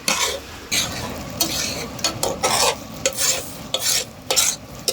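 Beaten egg poured into about 100 grams of hot butter and stirred in a pan: sizzling frying with repeated scraping strokes and metal utensil clinks, close and fairly loud, no talk.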